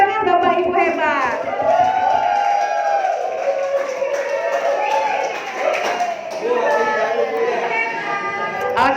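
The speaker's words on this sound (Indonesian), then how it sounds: "Oke, bagus, tepuk tangan Bapak Ibu hebat." Teachers in a workshop room clap for one another, a burst of applause with cheering and chatter, voices talking over it throughout.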